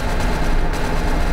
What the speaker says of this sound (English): That was a big nade.